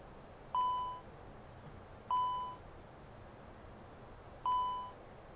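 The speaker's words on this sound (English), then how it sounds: "Stop beeping at me." A cockpit warning chime in the Prepar3D flight simulator sounds three times, each a clear single tone repeating at uneven intervals of about two seconds over a low steady hum.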